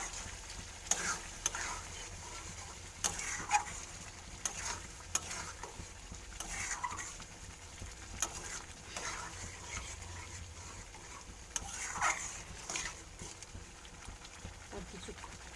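Raw paneer cubes are stirred in a hot pan, giving a soft, quiet sizzle broken by periodic spatula scrapes, with a voice talking intermittently.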